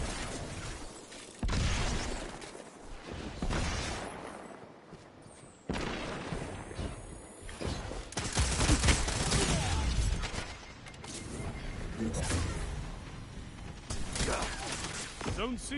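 Gunfire from Destiny 2 comes in bursts of rapid shots, with crashes and mechanical clatter between them, and faint voices occasionally under the action.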